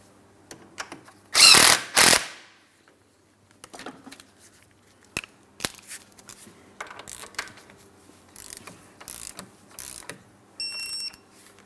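Ratchet tightening a castle nut on the steering knuckle of a 2004-2008 Pontiac Grand Prix, a loud burst of rapid clicking followed by several shorter ratcheting strokes and clinks up close, with no talking.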